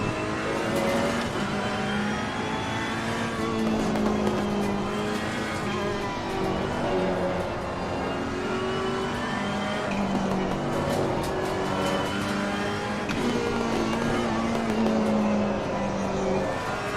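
Race car engine in Assetto Corsa Competizione, a loud continuous roar with rising and falling revs through gear changes, with occasional tire squeal, sustained for the whole stretch with no talk.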